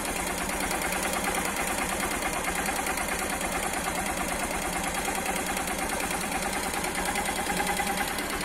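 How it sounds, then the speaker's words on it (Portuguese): A carbureted Honda Titan 150 motorcycle idles with an original exhaust, a steady rapid thumping beat that stays even and loud, up close for the whole stretch with no talking. "a batidinha eu vou ficar em silêncio para vocês escutarem"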